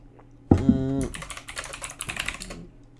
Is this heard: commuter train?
no